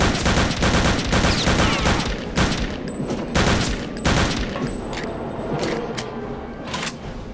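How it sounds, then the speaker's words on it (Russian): Rapid bursts of gunfire from the World War II shooter game Return to Castle Wolfenstein, with repeated loud volleys and machine-gun rattles running continuously close by, no talk over them. "О, там уже стреляют."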